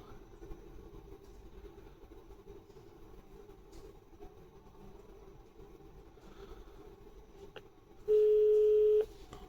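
A telephone call is placed through a Grandstream PBX, heard as a single steady ringback tone lasting about a second near the end over a low background hum, with no talking.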